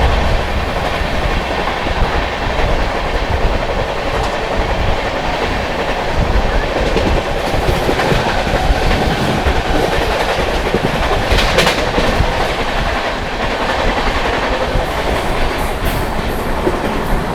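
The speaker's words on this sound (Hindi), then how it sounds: "सामने से आती इस्लामपुर नई दिल्ली मगध एक्सप्रेस" The Islampur–New Delhi Magadh Express rushes past on the rails, a loud close roar with steady rhythmic clickety-clack of wheels over joints lasting throughout and occasional higher metallic squeals.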